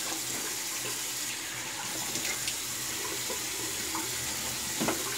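Steady water running from a bathroom tap into a sink while rinsing after a wet shave, a constant close hiss and splash with faint handling sounds and no talking.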